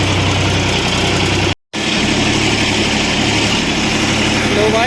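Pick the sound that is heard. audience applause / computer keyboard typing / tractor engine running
tractor engine running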